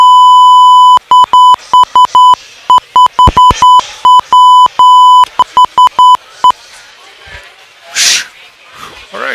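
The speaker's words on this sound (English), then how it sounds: "You got your finger on that beep button." Rapid bursts of a loud censor-style beep, repeated many times in an irregular rhythm, cutting in over speech, followed by a hiss and a sharp exhale.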